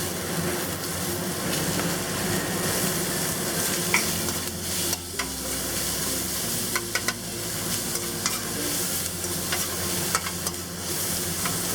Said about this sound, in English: Stir fry this until it gets aromatic. We'll add the onion.